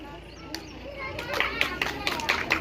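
Schoolchildren at a village primary school's Independence Day event clap in a few scattered bursts that build toward the end, over background voices and chatter.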